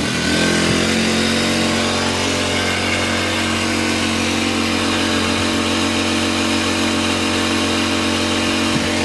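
Kipor IG1000P inverter generator running just after a pull start, a steady loud droning engine hum holding an even pitch throughout, close by and uninterrupted.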